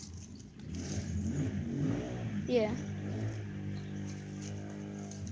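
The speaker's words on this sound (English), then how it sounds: "don't mind the car noises" Engine revving from a neighbouring mechanics' workshop outside a backyard with chickens, a steady mid-range car engine hum with a brief rising rev, heard under a person talking.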